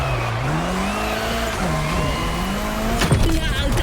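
A car drifts in a racing video game, its engine humming steadily while a long tire squeal bends in pitch and ends in a sharper skid burst near the end.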